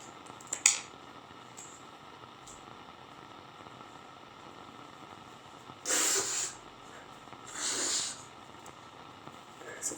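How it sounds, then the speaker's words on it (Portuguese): Someone blowing their nose into a paper tissue, two loud breathy honking blasts a couple of seconds apart, preceded by a small sniff, against quiet room noise. "eu vou ter que assoar o nariz"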